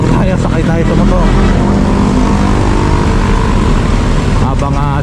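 Motorcycle ride along C3 Road with a steady, loud engine and road roar throughout, traffic noise around and voices talking over it.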